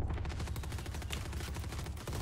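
Rapid, dense gunfire from the shooter game Valorant rattles continuously as loud, close bursts that fill the whole moment without a break.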